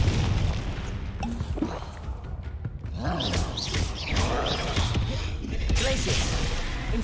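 Confringo fire blast spells from Hogwarts Legacy go off as booming explosions with crackling, rumbling tails, recurring through a busy, loud battle soundscape.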